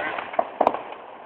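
Neighborhood fireworks bursting outdoors during a holiday celebration: a few distant pops and crackles in quick succession over a steady background wash.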